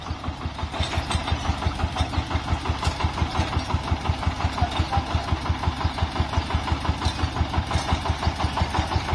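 A farm tractor engine runs close by with a fast, even, pulsing chug that holds a steady rhythm throughout, with no talk over it.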